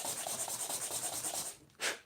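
Sanding paper rubs in quick, even strokes over a small handmade beech wood miniature box, a close, soft rasping rhythm that pauses before one last louder scrape.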